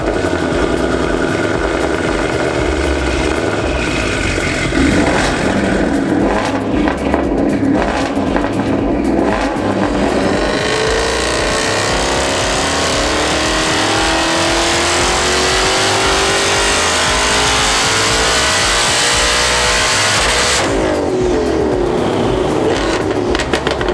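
A 1000bhp Hellion twin-turbo Mustang GT revs hard and pulls away, its loud, close engine note rising and falling through gear changes and swelling into sustained roaring acceleration for the whole stretch.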